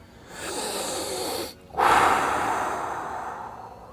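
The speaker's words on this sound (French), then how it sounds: "On va prendre toute une grande respiration." A deep breath taken close to the microphone: a long, loud inhale, a brief pause, then a strong, breathy exhale that gradually fades.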